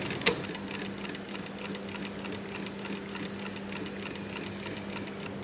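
A sewing machine stitches steadily at close range, a fast, even mechanical ticking and whir running throughout with one sharp click near the start; no voices.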